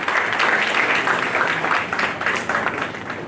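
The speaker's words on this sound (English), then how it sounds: "A big hand of applause for all three of them" An audience at a hospital foundation day celebration breaks into loud, sustained applause, dense overlapping claps filling the whole stretch and easing slightly toward the end.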